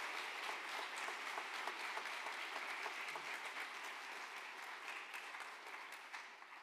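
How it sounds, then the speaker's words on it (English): Steady applause from an audience for a panel at a Florida Tech event, crisp clapping sustained for several seconds and slowly thinning toward the end, fairly quiet and distant. "I'm going to ask that you give this panel a big round of applause"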